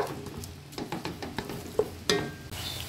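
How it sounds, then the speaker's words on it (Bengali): A spatula stirs and scrapes a frying spice mix in a pan for Bengali-style khichuri, giving a string of quick scraping strokes and taps over a continuous quiet sizzle. "এটাকে আমি ভালো করে কষে নেব।"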